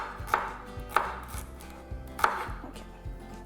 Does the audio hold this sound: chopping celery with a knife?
yes